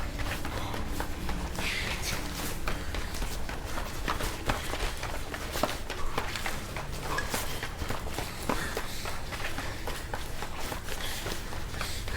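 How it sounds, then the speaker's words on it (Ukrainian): A person runs steadily, with a long run of rapid, even footfalls at moderate distance against a continuous murky background rumble. "Він біжить."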